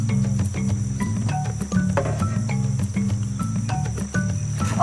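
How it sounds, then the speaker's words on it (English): Jungle crickets chirp in rapid pulsing trills, loud and close, repeating in bursts over a steady high whine, with no voices. "First, they need to catch the bait, jungle crickets."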